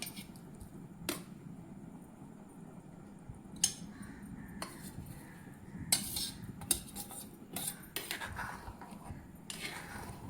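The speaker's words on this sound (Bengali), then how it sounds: "ডিম পনিরগুলো দিয়ে ভালো করে একটু নাড়াইয়ে দিলাম।" Utensil stirring egg and paneer gravy in a pan, with irregular metallic scrapes and clinks at a gentle pace, close and fairly quiet.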